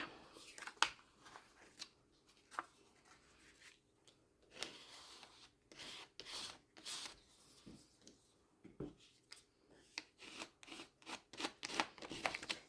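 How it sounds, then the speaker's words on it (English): Edge of a card dragged through yellow paint across a textured paper page, a series of soft, close scraping rubs repeating in short strokes, quiet and dry, with no talking. "I'm going to scrape it across"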